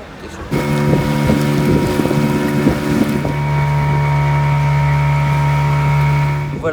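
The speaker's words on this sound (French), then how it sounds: "Montée du bateau pour rejoindre l'île des prisonniers." A steady boat engine drone with strong low hum and wind buffeting the microphone, loud and continuous with some knocking early on, on a boat crossing the sea to Prison Island off Zanzibar.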